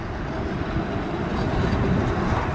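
A heritage tram rolls along the tracks on Blackpool promenade, a steady broadband rumble with rail noise that swells slightly toward the end, with no voices.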